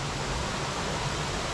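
Waterfall at Warsa in North Biak, Papua, giving a steady, dense roar of falling water that stays even and loud throughout the short stretch.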